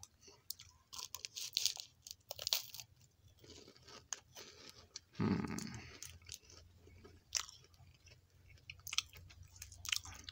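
Chocolatos chocolate wafer rolls are bitten and chewed close to the mic, giving dense, uneven crisp crunches throughout, with a brief hum from the eater midway.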